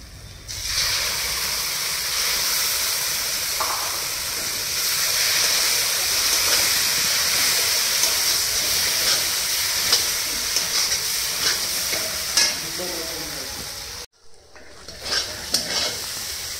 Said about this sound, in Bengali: এবার এই যে কাজু আর মৌরির ওইগুলো যে পেস্ট করেছিলাম ওইটা দিচ্ছি।